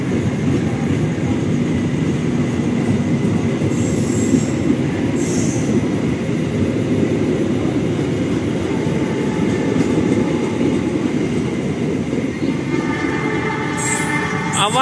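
An Indonesian Senja Utama YK passenger train from Jakarta to Yogyakarta rumbles steadily at about 100 km/h, with a loud continuous roar of wheels on rails and brief higher squeals near the end.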